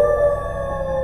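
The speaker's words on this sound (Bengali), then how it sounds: "প্রহরে শেয়াল ডাকছে।" A jackal's howl in a distant rainy forest, one sustained wavering tonal cry, loud and unbroken with no talk.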